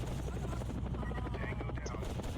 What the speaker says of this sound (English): I call in the helicopter